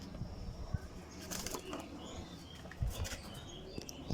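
A grizzle pair of racing pigeons in a loft gives off soft, scattered fluttering and faint chirps and coos, quiet and intermittent against low background noise.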